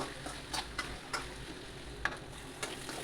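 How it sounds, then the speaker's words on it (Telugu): Okra frying in oil in a pan, a soft, steady sizzle with a few light ticks and taps of a stirring utensil, close but fairly quiet. "తర్వాత అదే ఆయిల్లో బెండకాయలను వేసి మంచిగా ఫ్రై చేద్దాం."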